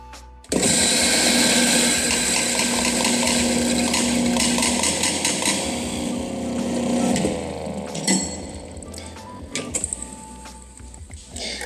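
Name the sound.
coffee grinder purging a few grams of coffee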